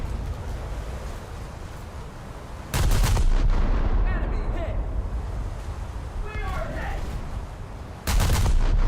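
Warship guns boom from a modern naval combat video game as a ship engages an enemy vessel, heavy blasts arriving in two loud bursts with a brief whistling shell sound between them, under steady game background noise.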